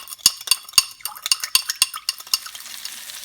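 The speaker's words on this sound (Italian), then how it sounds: "prepariamo l'agrodolce mescolando lo zucchero all'aceto" Spoon stirring sugar into vinegar in a pot or bowl for Italian sweet-and-sour sauce, giving a run of sharp metallic clinks and scrapes at an irregular pace, close and clear with no talk.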